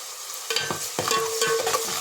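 Onions fry in a pan for a mutton curry, a steady sizzle under intermittent scraping knocks as a utensil stirs them, close and moderately loud.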